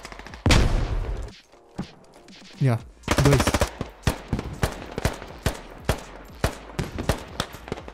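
Rapid bursts of automatic gunfire and single shots crack through a military squad shooter game, loud and close, with a sustained volley followed by a steady run of spaced shots while a player speaks briefly over them.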